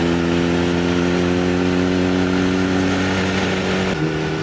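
Motorcycle engine droning steadily on a winding road of tight bends in Surat Thani, Thailand, its harmonic hum holding even for several seconds with a slight pitch shift near the end, close and continuous without talk.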